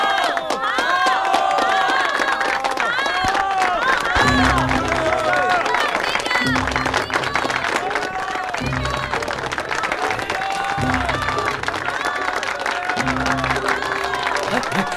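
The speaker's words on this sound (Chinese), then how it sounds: "下面我们请大家以热烈的掌声来欢送" An audience at a lecture hall in a film bursts into loud, continuous applause mixed with cheering and shouting voices that rise and fall in waves.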